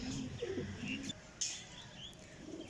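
Large pathiya flying pigeons cooing softly with low rolling coos and a few faint chirps at the start, the coos fading into quiet background noise.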